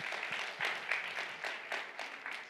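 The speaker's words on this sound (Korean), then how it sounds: "우리 박수 한번 합시다" Light clapping from a youth winter camp audience during a sermon, fairly faint and somewhat rhythmic, with a few louder claps standing out over the steady patter.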